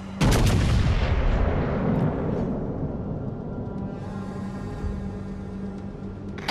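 Naval artillery salvo from warships in World of Warships: Legends, a loud blast at the start followed by a long rumbling decay and a faint trailing tone, with no speech.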